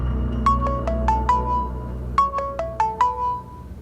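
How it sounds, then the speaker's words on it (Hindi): A mobile phone ringtone for an incoming call plays a bright melodic tone figure twice in succession, loud and close over a low background hum. "अच्छा हुआ आपने कॉल कर लिया आरिस, मैं आपको ही फोन करने वाली थी।"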